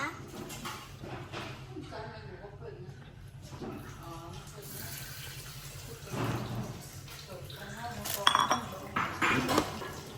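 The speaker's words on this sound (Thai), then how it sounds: "เราจะใส่ในหม้อข้าวแล้วเราก็จะหุงนะคะ" Rice goes into a rice cooker pot during a home experiment with rice that changes colour: close clinks and scrapes of metal and dishes, a few louder knocks near the end, with a voice speaking softly underneath.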